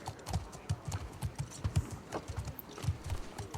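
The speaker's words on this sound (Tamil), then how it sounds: "ஓகே போய் நம்ம குதிரை வாங்க" Horse hooves clip-clop in a steady, regular walking rhythm in the video game The Last of Us Part 2, clear and moderately close, with no voices.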